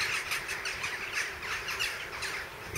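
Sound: crows cawing while seeking a roost

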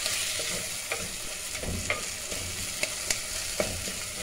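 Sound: minced meat frying with tomato in oil

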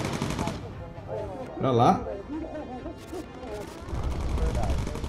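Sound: gunfire at enemies in video game Bomber Crew

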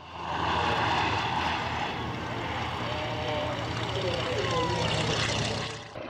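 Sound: Antonov An-2 airplane flying in an air show

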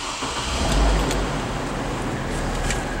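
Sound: 2008 Hummer H3 engine starting

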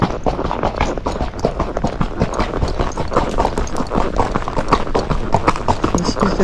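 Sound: horse hooves walking in a barn, Tennessee Walking Horse

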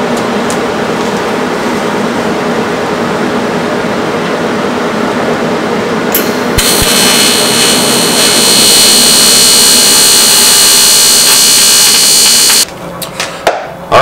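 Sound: welding a metal boat flotation pod

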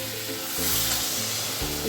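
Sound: water poured into frying spices, sizzling

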